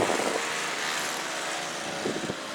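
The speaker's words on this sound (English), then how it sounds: "now he's working on Kurt and Jen's driveway with the big snow blower" A big snow blower clearing a driveway during a blizzard, a continuous broadband engine roar and whoosh heard from a moderate distance, steady throughout with a slight bump near the end.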